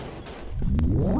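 Gunfire in a mobile first-person shooter game: a couple of sharp shots crack out over a rising whooshing rumble, close and fairly loud, with no talking.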